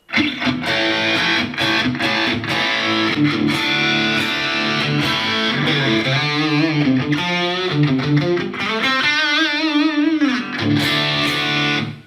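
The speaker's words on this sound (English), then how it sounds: "this is what the amp sounds like without the MXR distortion" A clean electric guitar through an amp modeler with no distortion plays chords and sustained notes with a modulated, chorus-like shimmer, loud and continuous, no vocals.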